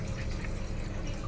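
Water is poured into semolina for sajjige holige, a brief, soft, steady splashing and trickling sound.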